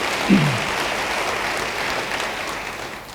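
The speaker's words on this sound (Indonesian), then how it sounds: "siapa yang mau beri tepuk tangan yang baik bagi dia" A church congregation applauds during a sermon, a steady, fairly even roar of many hands clapping that continues for over three seconds and eases slightly at the end.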